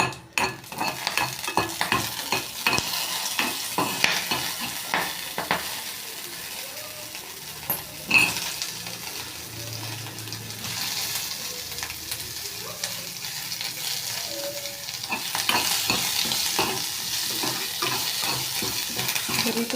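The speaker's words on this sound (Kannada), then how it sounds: "ಚೆನ್ನಾಗಿ ಫ್ರೈ ಮಾಡಬೇಕು ಫೈವ್ ಮಿನಿಟ್ಸು ಸಣ್ಣೂರಿಗೆ ಫ್ರೈ ಮಾಡಬೇಕು" Oil sizzles steadily in a pan while a utensil scrapes and stirs in repeated strokes, with occasional clinks of metal.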